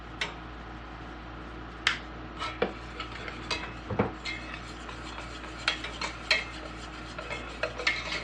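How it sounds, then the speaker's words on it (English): A spoon stirs tuna sauce seasoned with garlic and onion powder in a pan off the heat, giving soft scrapes and a scattering of light metallic clinks and taps against a quiet background. "it's off the heat, but we're still going to be stirring"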